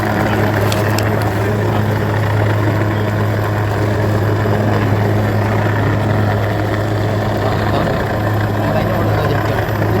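A helicopter hovers over the landslide area at Chooralmala in Wayanad, giving a steady droning rotor and engine roar that stays loud and constant, with voices talking underneath.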